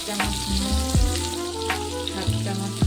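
Boiled potatoes frying in a pan with a continuous close sizzle, a few low knocks and scrapes of a spoon moving them around.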